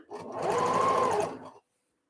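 A sewing machine stitches an embroidery sample with a steady, close whir that runs for about a second and a half before stopping abruptly, with no talking.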